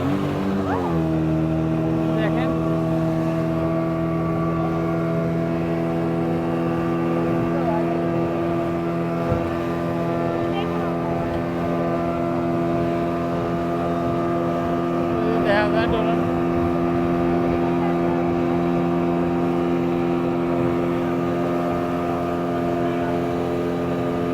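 A steady droning engine roar from a speedboat racing a drone runs throughout, loud and continuous, with voices talking faintly under it.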